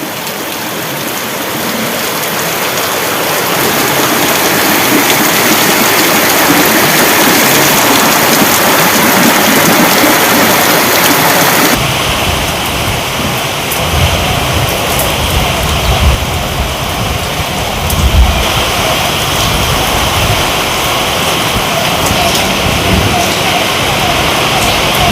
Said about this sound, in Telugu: మెదక్ జిల్లా వ్యాప్తంగా వర్షం దంచి కొట్టింది.